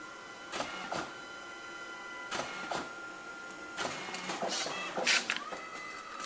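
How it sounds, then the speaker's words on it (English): Home printer printing a page sent wirelessly via AirPrint from an iPad through a Raspberry Pi server, with a low mechanical hum broken by repeated whirring feed and clunking bursts at irregular intervals, close by. "My printer already kicked on."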